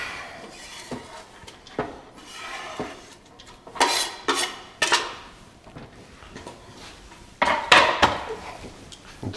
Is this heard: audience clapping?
no